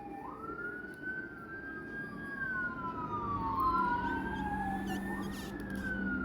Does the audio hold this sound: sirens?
yes